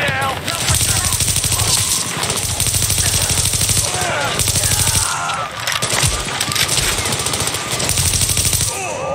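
Rapid automatic gunfire in The Division video game, dense bursts of shots crackling almost continuously, loud and close, with short pauses between volleys and voices faintly beneath.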